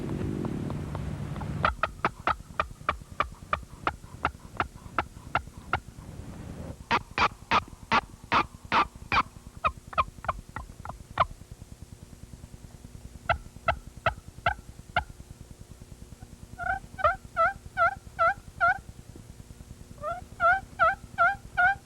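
Wild turkeys gobble in the spring woods, with repeated rattling gobbles from several birds at varying distances, some near and loud, others fainter, coming in clusters with short pauses and no speech.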